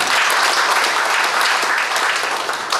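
Guests at a joint wedding ceremony held by a Korean legal-protection welfare branch in Incheon applaud an honored committee chairman, a loud, continuous wash of crowd clapping with no talk over it.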